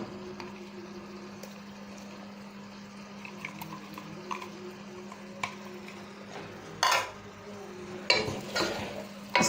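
Soya chunks being stirred and mixed into a vegetable curry of potato, peas and beans, with soft spoon scrapes and a few sharper clinks against the pot over a faint steady background hum.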